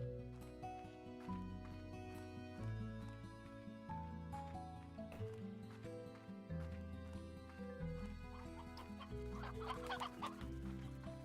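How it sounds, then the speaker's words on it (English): Chickens clucking in the Slime Rancher video game, repeated soft clucks over a looping melodic music track that dominates the mix. "Was looking at the chickens."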